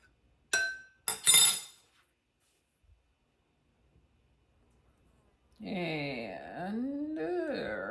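A spoon clinks against a glass while stirring, a few bright ringing strikes close by early on, then a short pause before a voice talks.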